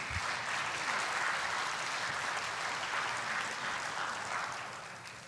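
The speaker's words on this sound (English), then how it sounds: "Can we give them a round of applause for being here?" Audience applause for a pair of panelists at a talk on difficult family conversations, a dense steady clapping that fills the room and fades slightly toward the end.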